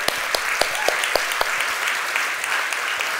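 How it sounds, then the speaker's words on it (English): A seminar audience applauds after a guided mental-blocks exercise, a full burst of clapping with a few strong, evenly spaced claps up front that thins into softer clapping. "I'd love to give yourself a round of applause"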